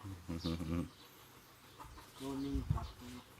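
Chickens and fighting roosters cluck and call in a short burst, then again a moment later, fairly faint and close, with a brief thump among them.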